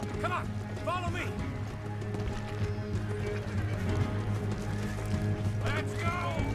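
Horses gallop through a Red Dead Redemption 2 shootout, their hooves clattering steadily along with whinnies, gunfire and music, while voices talk over the action throughout.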